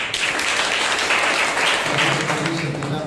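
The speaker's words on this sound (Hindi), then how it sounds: "एक जोरदार ताली बजाइए" Congregation at a Sunday morning church service giving loud applause, a dense burst of clapping that fills the space close by and stays strong throughout, with faint voices mixed in.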